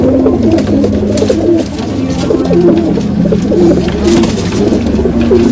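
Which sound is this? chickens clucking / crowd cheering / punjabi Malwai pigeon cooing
punjabi Malwai pigeon cooing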